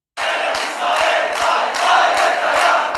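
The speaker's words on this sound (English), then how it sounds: "The crowds chant Bibi," A large crowd chants "Bibi" for Benjamin Netanyahu at an Israeli election rally, a loud rhythmic roar that surges about every half second, with no clear talk over it.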